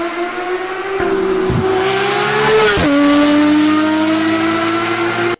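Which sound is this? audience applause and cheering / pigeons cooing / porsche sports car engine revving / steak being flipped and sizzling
porsche sports car engine revving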